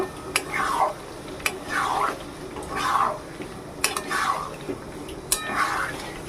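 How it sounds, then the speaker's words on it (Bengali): Mutton being stirred with yogurt in a pan: a repeating cycle of a spoon clacking on the metal followed by a thick wet squelching scrape, about five strokes, steady and close. "দইটা দিয়ে খুব ভালো করে কষিয়ে নেব"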